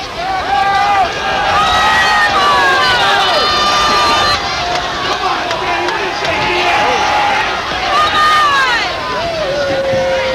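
Large, vocal crowd at a 1993 Thanksgiving Day high school football game between Agawam and West Side, sustained cheering and shouting with whistling rising and falling over ten seconds, loud and close, with commentators talking over it.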